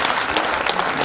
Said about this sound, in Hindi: जोर से तालियां बजाइए, लगातार खड़े होकर के तालियां बजाइए।